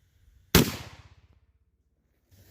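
One sharp, loud shot from a Rossi 92 .44 Magnum carbine firing 240-grain soft point rounds, followed by a decaying rumbling echo, with a faint thump near the end.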